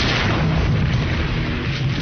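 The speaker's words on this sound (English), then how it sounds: "they ask the tank gunners to fire at the room and destroy it" Tank cannon fire blasting a sniper's hotel room, a loud continuous rumble of heavy booms and blast noise that stays dense and close for the whole stretch.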